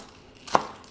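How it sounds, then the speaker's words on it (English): A single sharp knife chop through green onions on a cutting board, a quick thunk in an otherwise quiet space. "Then I'll be chopping up the green onions"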